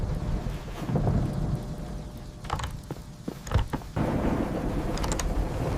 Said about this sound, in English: And now, thunder! It is so loud!